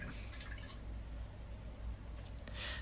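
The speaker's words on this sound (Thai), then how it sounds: "อันดับแรกผมก็จะใช้น้ำมันนะครับ เทลงไปได้เลยนะครับ" Cooking oil is poured into a pan before frying catfish, a faint, close trickle with light dripping and liquid splashes over a low, steady background hum.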